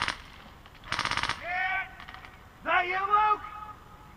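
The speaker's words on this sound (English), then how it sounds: "it sounds like one of our teammates is shooting at an enemy" Gunfire from a teammate shooting at an enemy in a video game: a short rapid burst of shots, fairly close and loud, between stretches of talk.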